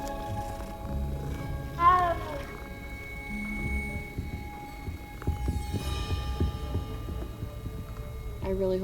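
Cats in a Hogwarts Legacy game scene let out several short, distinct meows, the loudest near the start and a softer cluster later, mixed with faint background hum and talk.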